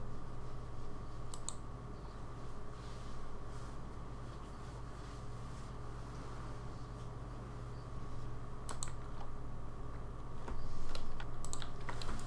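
Someone typing code on a computer keyboard, quiet scattered key clicks in short bursts over a steady low hum, faint and without speech.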